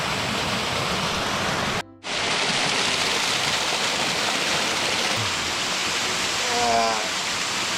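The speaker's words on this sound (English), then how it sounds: "Goodbye, little waterfall." A small waterfall on a Pacific Northwest tree farm pours out a steady, dense rush of water close by. A brief dropout comes near the start, and a faint tonal sound appears later over the roar.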